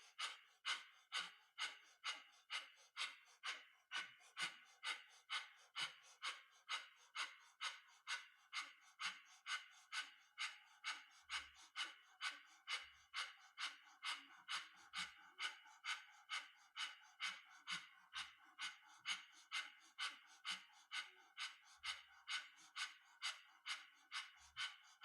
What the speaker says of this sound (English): powerful breath of fire.